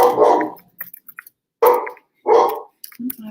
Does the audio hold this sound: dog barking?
yes